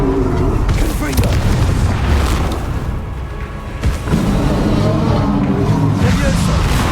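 Explosive spell blasts from the Hogwarts Legacy game, a loud booming burst landing amid dense, continuous combat noise with a lull midway before another heavy hit.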